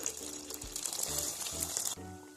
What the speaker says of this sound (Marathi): आता तेल गरम झाले गॅस मीडियम करायची आणि वडे तेलात घालायचे